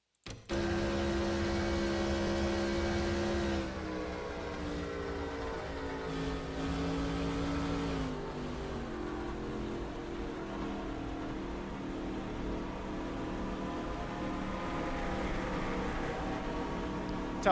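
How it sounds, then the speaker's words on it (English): A NASCAR race car with a blown engine in NASCAR Racing 2003 drones at steady, loud, harsh revs from onboard, the pitch dropping and wavering as the car slows and the engine labours, with no talk over it. "Let's go on board with him, just kind of get a feeling of what a blown engine sounds like"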